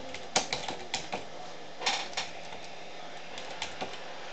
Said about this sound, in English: hit space, type down background.